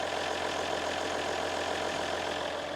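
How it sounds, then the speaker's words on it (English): A Ram 1500 diesel pickup engine idles steadily nearby, a constant low rumbling clatter with no change in pitch. "I love the sound of a diesel"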